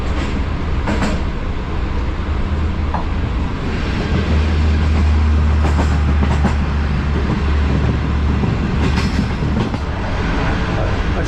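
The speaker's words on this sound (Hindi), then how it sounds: "अभी गुजरांवाला रेलवे स्टेशन से पास थ्रू हो रही है 6 डाउन ग्रीन लाइन" A 6 Down Green Line train passes through Gujranwala railway station, a loud steady rumble and roar of rolling carriages with rhythmic clickety-clack of wheels over rail joints, heard close by from inside a guard compartment.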